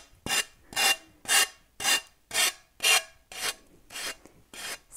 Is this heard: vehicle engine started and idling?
no